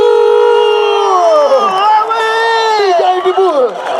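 A crowd cheers and shouts loudly for a DJ at a lively gathering, a dense continuous roar of many voices with rising whoops and yells sweeping up and down over a few seconds.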